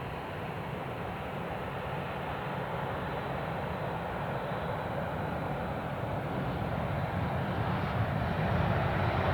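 A Qatar Airways Airbus A380-861 at Perth airport, heard as a steady, broad roar of jet engines that holds constant and swells slightly toward the end, with no talk.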